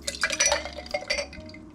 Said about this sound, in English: I'm gonna pour it into my glass.